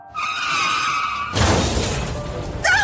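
A car strikes something and its front windshield shatters: a steady tonal engine-like hum, then a loud crunching burst of breaking glass and impact noise that trails on, with a sharp squeal at the very end.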